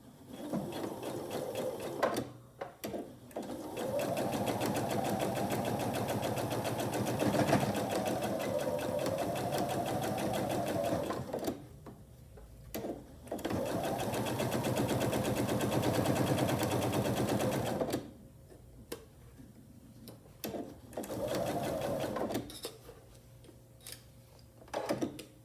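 A sewing machine stitches a quilt block seam in long rapid bursts of steady mechanical whirring, stopping several times with short quiet pauses between runs.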